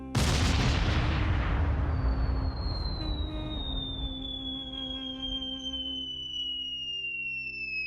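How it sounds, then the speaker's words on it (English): An artillery shell fired by a Venetian crew from Philopapos hill toward the Parthenon: a loud, heavy blast opening sharply, then a long rumbling decay with a high descending whistle trailing off, no voices. "a Venetian crew stationed on the Philopapos hill shot a shell aimed right at the Parthenon."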